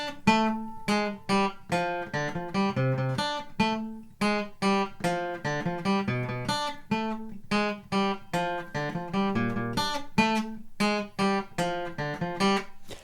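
The main riff picked on guitar, a quick rhythmic run of plucked notes with short gaps and repeated low open-string hits, played alone and close.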